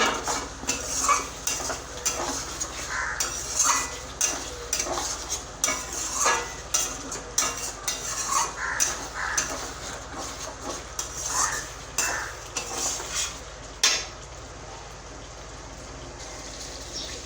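Sour yogurt stirred into food in a pan over a low gas flame: a spoon scrapes and clinks against the pan in a steady rhythm of repeated strokes, close up, with a faint sizzle underneath.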